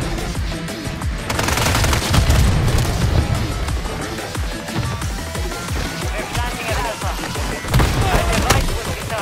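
Heavy sustained gunfire and booming impacts in a futuristic shooter game, loud and continuous over several seconds with dense rapid bursts and occasional heavier blasts.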